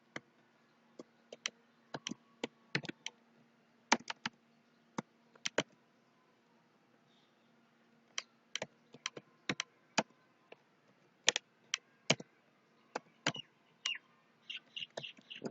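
Typing on a computer keyboard while entering an email address into a database table: quiet, sharp key clicks in irregular bursts with short pauses, close and alone.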